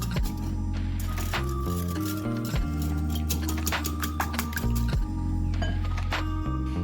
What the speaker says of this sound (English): Then I beat everything together nicely for about 5 minutes.